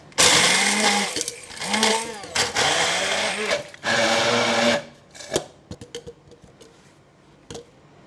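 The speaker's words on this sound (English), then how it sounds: "So I'm going to put in all the chili and the lemongrass in the blender." A blender blending chili, lemongrass and dry shrimp whirs loudly in bursts, starting and stopping several times, with short pauses and some clatter between runs.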